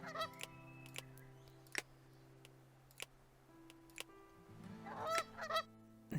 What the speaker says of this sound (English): And you can hear the geese as well.